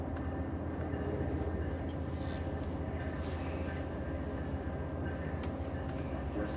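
Amtrak Texas Eagle passenger train rolling along the rails, heard from inside as a steady, loud low rumble with faint rattles and clicks throughout.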